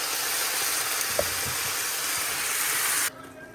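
Mutton pieces, cut small and coated with salt and ginger-garlic paste, fry in a pan with a steady, loud sizzle for about three seconds, ending in a sudden drop to near silence.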